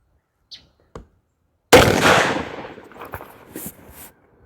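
A CVA Crossfire muzzleloader rifle loaded with a 120-grain Firestick charge fires at a target outdoors. One sharp, loud blast follows two faint clicks, then a long rumbling decay.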